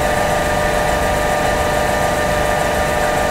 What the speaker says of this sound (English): at the synchronous motor, once it's running in sync, you'll find that you can load it up and it will maintain the same speed